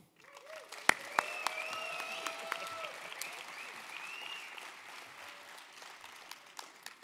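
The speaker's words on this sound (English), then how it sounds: "And give them an applause." An audience at the EVE Fanfest 2011 alliance panel claps and cheers in sustained applause, with a few sharp whoops, fairly distant and holding steady before slowly thinning out.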